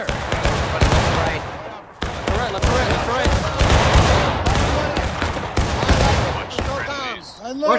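Muskets fire in a Civil War reenactment battle, sharp cracks ringing out at irregular intervals about once a second, close and loud, amid shouted commands and voices across a wooded field.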